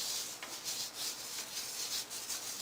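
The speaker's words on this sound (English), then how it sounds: "I'm just going to rub the two backs of my hands together" Sugar scrub grains rasp softly as the backs of two hands rub together over a sink, a steady gritty scraping with gentle rhythmic swells, close and fairly quiet with no talking.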